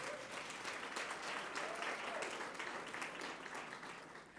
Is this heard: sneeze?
no